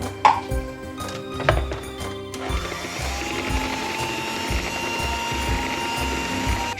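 Electric mixer whipping cream for a cherry cake, opening with clicks and rattles before the motor settles into a steady, even whir that continues to the end.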